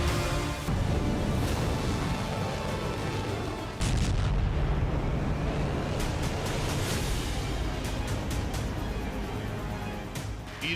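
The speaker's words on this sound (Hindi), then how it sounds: "ईरान की धरती पर यह पाकिस्तान की मिसाइल वर्षा है।" Pakistani missile strikes exploding on Iranian soil: a continuous loud roar of blasts and rumbling booms, with sharp impacts punctuating a dense, steady wall of noise throughout.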